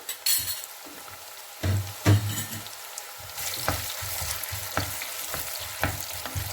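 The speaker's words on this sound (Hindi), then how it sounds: "ये देखिए ऑयल हमारा गर्म हो चुका है। इसके अंदर हमने कटी हुई प्याज डाल ली है" Chopped onions fry in hot oil, a low sizzle broken by bursts of stirring and scraping in the pan, with sharper spoon knocks later on and no voices.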